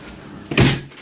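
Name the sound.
apartment door closing as the plumber leaves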